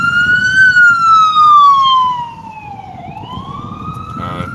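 Ambulance siren wailing in city traffic near the Lincoln Tunnel, a loud, steady-pitched tone that gradually sweeps lower, dips sharply, then climbs again as it passes over a rumble of road noise.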